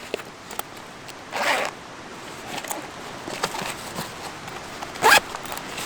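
The waterproof zippered top pouch of a Savotta Jaakari backpack is zipped, with two short, sharp rasping pulls, one early and one near the end, amid quiet handling rustles close by.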